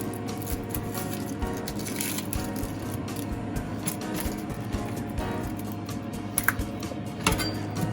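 A knife cuts and peels an onion on a board, a run of quick, crisp taps and soft crunchy clicks close to the microphone.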